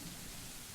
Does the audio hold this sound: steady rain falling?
yes